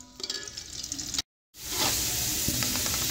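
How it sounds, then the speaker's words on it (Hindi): Onions go into hot cooking oil and sizzle, a bright crackling hiss that swells after a brief silent cut, with occasional spatter pops and a few utensil scrapes. "कुकिंग ऑयल गर्म होने के साथ ही मैं इसके अंदर प्याज ऐड कर दूंगी और पहले हम प्याज को फ्राई कर लेंगे।"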